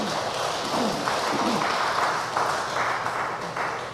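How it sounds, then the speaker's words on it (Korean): A Korean Buddhist congregation claps for a speaker at a regular dharma service, moderately loud, steady applause lasting several seconds, with a voice faintly audible at the start. "박수 한번 보내드리시죠."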